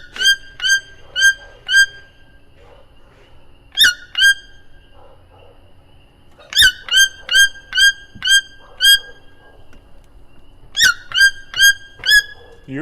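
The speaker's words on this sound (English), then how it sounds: "You're a loud bird, you know that? You're louder than all the other birds." A toucan calls loudly and close, in repeated bursts of sharp, squeaky croaks with ringing echo, grouped in rapid series separated by short pauses.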